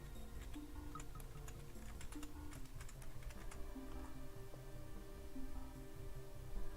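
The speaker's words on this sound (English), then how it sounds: "Test typing back to you real quick." Faint, steady typing on a computer keyboard, with quick irregular key clicks continuing throughout at low volume against a quiet background hum.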